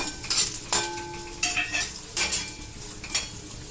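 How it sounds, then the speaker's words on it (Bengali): Small pieces of ginger and lightly browned garlic sizzle in hot oil, with a utensil scraping and stirring in several short, distinct bursts against the pan; no talking. "আদাটাকে একটু নেড়ে নিলাম তেলেতে"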